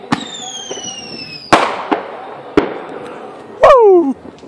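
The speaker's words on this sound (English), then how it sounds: "Artillery shells are cool, man." Artillery shell fireworks going off outdoors on New Year's, a series of sharp booming bursts spaced about a second apart, some with whistling tails, then a louder crackling blast with a descending whine near the end.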